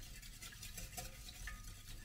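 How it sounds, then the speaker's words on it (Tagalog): Wet baking ingredients with melted butter are stirred in a bowl, a soft, faint, continuous swishing with gentle scraping throughout and no talking. "So, haluin lang natin."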